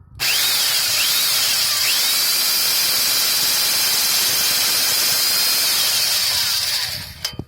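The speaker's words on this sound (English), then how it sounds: "just drilling the hole in" A power drill whines continuously while boring a hole for a wideband gauge sensor, its pitch wavering slightly, then it cuts off abruptly near the end.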